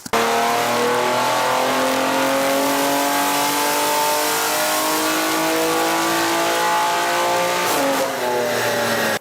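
A Stage 2 tuned BMW G87 M2 engine revs hard on a dyno during a high-power run, a loud sustained rising wail that climbs steadily, dips briefly near the end, then surges again.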